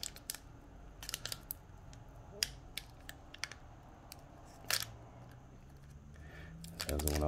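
Scissors snipping open a trading card blister pack, a series of crisp separate clicks and cuts, close and quiet, with a voice briefly at the end.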